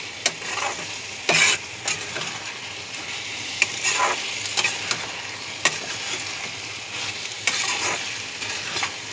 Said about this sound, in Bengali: এবারে এটাকে নাড়তে নাড়তে হয়ে যাবে।